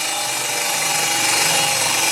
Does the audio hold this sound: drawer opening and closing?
no